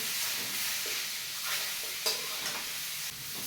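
Butter chicken stir-fried in a pan gives a steady close sizzle with scraping stir strokes and a few sharper clinks of the spatula against the metal, continuous with no talking.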